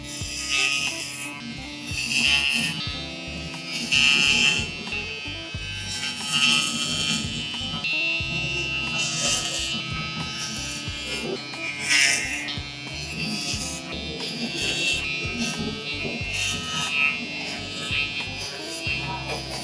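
Electric hair clippers fitted with a #12 guard, cutting hair for a mullet, hum in a steady, close, harmonic buzz that swells and dips slightly as they move through the hair.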